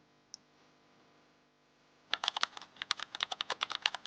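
Quiet room tone, then from about halfway a fast, irregular run of sharp clicks as someone types steadily on a computer keyboard, close by.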